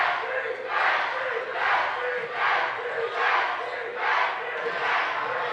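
Loud crowd noise fills a high school basketball gym, swelling in repeated rhythmic surges like a chant, with no clear talk over it.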